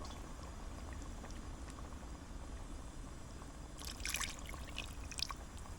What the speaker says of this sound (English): Now we're gonna add our blackfish stock.